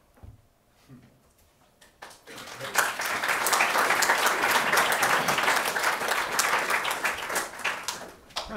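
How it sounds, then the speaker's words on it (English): After a quiet stretch with a few faint sounds, an audience at a cyber operations and national security panel discussion breaks into loud, sustained applause that carries on for several seconds. "thank you for your applause"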